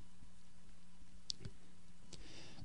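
Two or three sharp, faint clicks of a computer mouse selecting items on a typing-practice website, spaced apart over low background hum with no talking.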